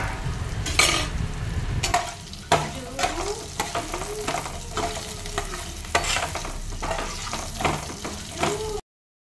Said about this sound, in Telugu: ఇప్పుడు అందులో కారం వేసి ఒక 3 నిమిషాల పాటు బాగా వేయించుకోవాలి